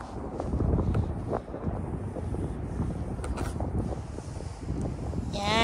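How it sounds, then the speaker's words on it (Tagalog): Strong outdoor wind buffets the microphone on a sunny day in Edmonton, a loud continuous low roar with gusty surges throughout and no talking. "Ay mahangin."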